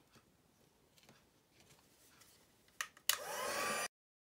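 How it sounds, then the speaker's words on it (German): A handheld heat gun switches on to melt embossing powder for a card-making embossing resist technique, starting with a short click and then a loud steady blowing roar that cuts off abruptly after a brief burst, following quiet tapping. "ich jetzt meinen Heißluftföhn anschmeiße"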